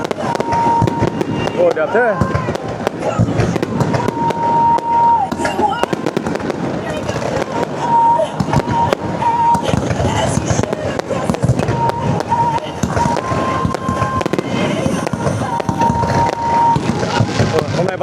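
A fireworks display at Vu Yen Island in Thuy Nguyen, Hai Phong, rumbles and crackles continuously with dense, overlapping bursts, loud and sustained, while nearby onlookers talk and exclaim.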